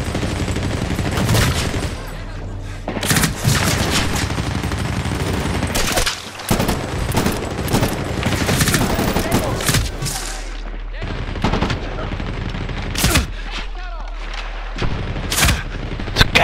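Gunfire in Medal of Honor: Warfighter on PS3: dense bursts of automatic fire and heavy booms crackle loudly in rapid volleys, with short lulls between them, and a voice speaks now and then.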